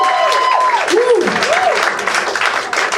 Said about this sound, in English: They always wait until the applause die all the way out.